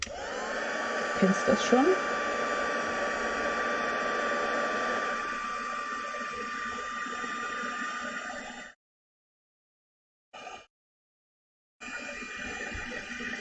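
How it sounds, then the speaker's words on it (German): Hair dryer blowing steadily on a handmade paper card, loud and close, then cutting off abruptly, with a brief burst and a restart after a pause; a short spoken phrase comes early over the airflow. "jetzt wird ganz kurz geföhnt"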